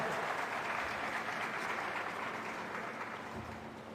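An audience at a Chhattisgarh government event on unemployment allowance applauds to welcome a guest, a steady broadband wash of clapping that holds through the whole stretch and eases slightly near the end.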